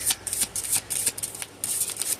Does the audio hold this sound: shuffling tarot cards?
yes